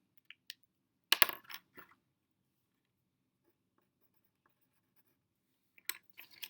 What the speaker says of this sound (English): Using a pencil, write the red word from memory.